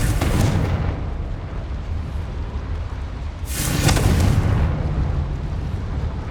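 A Confringo spell explosion in Hogwarts Legacy, two loud booming blasts with crackling bursts, one right at the start and a bigger one midway, each rolling off into rumble.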